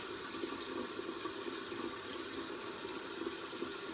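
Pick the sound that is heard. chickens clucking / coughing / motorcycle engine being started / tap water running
tap water running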